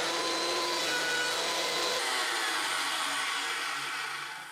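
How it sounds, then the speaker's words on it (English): A thickness planer feeds a wooden threshold, giving a loud, steady broadband roar that drops in pitch partway through and then fades at the end, with no talking. "So I'll get my thickness planer out and I'll run that down"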